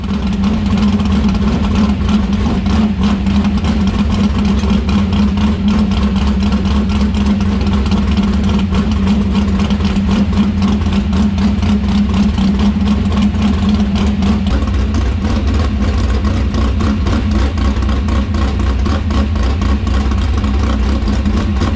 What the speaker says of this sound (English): Just idling the car,